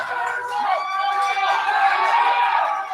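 Crowd at a Pankration fight at Primal 5 roars steadily, a dense wall of cheering and shouting that holds at full volume throughout, with many overlapping voices.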